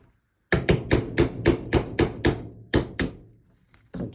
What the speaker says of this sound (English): So need to tap those through as well.